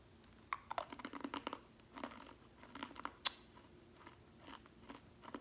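Someone chewing crunchy grape candies with a candy shell and a puffy, foamy white centre, giving close, quiet, irregular bites and crisp crunches that come in quick bursts, with no talking.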